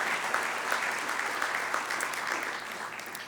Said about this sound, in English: So please give Bob Seagren a round of applause for, again, taking that on behalf of Mount SAC.